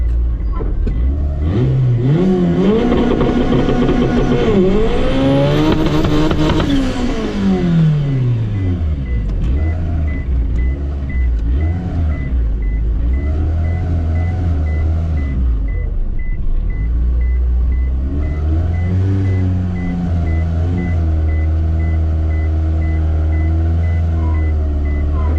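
Ford Falcon EF drag car doing two-step launch testing: a loud engine revs up in rising and falling sweeps, then settles into a heavy rumbling idle with repeated blips, close and continuous.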